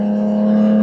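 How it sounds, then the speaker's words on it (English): A Jaguar F-Type's 3-liter supercharged V6 holds a loud, steady engine note, a brief close-up burst with a strong tonal hum and no talk. "it's possibly one of the most visceral sounding engines you will ever hear"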